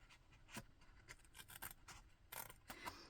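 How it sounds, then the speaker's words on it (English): Small scissors snip through excess card in a series of quick, faint, close cuts with short pauses between them. "I'm just going to grab my scissors and trim away that excess piece."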